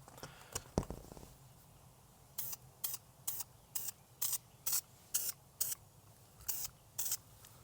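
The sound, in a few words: aerosol spray paint can spraying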